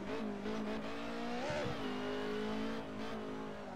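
A Ford Escort in a video game revs hard while drifting, its engine note holding steady, dipping briefly and climbing again over nearly four seconds, loud and close with no talk.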